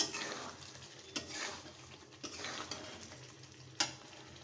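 Chicken curry meat sautéing in oil in a pan, a faint continuous sizzle broken by a few stirring scrapes and light clinks.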